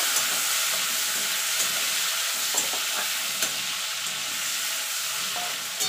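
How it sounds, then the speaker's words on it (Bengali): Prawns fry in hot mustard oil, giving a dense, steady sizzle and hiss with faint scraping stirs now and then, close by and with no voices. "চিংড়ি মাছটা দিয়ে দেবো। দিয়ে চিংড়ি মাছটা হালকা করে ভেজে নেব।"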